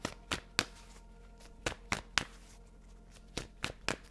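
Tarot deck being shuffled during a reading, with sharp card snaps and riffles in irregular bursts, close and fairly quiet, separated by brief pauses.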